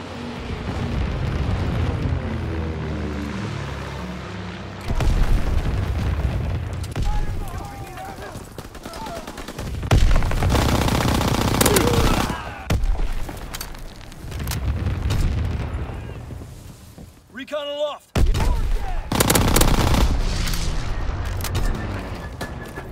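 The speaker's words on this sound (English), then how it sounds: "Anti-aircraft bursts commenced." Anti-aircraft bursts and gunfire in Call of Duty: WWII, loud, dense booming and rattling fire that runs throughout, broken by a brief lull, with voices heard amid the noise.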